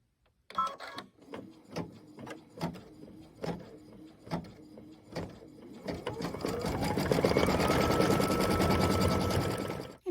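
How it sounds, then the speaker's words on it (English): An embroidery machine sewing a satin stitch on a quilt block, starting with slow spaced needle thumps then settling into a fast, steady mechanical hum, near and fairly loud, no talking. "Now we're going to put it back in and do our satin stitch"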